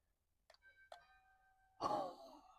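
Two soft electronic chime tones sound, the second lingering, heard faintly from a distance before a louder breathy noise near the microphone.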